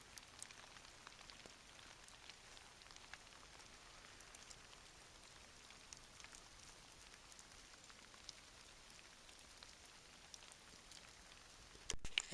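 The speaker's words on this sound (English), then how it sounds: "I don't know if you guys can hear that rain hitting," Rain pattering steadily on a small sapling shelter in the woods, a dense soft hiss of drops heard from inside, faint and continuous throughout, with a brief rustle at the very end.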